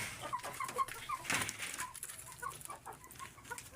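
An Aseel rooster clucks in a cage, soft and fairly faint, a run of short calls over low background noise.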